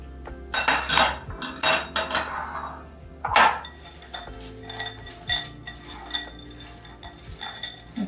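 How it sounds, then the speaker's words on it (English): Cherries, chocolate and walnuts worked into sourdough in a bowl: bursts of scraping and rubbing, with clinks and knocks against the bowl, close and uneven. "Mix these together."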